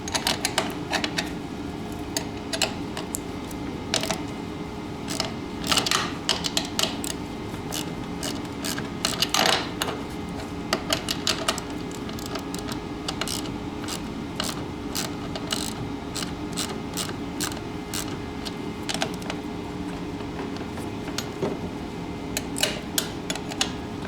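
Tools loosening the bolts on the paddles of a Toro Power Clear snowblower give a steady run of close, sharp metallic ratcheting clicks and clanks, with no talk in between.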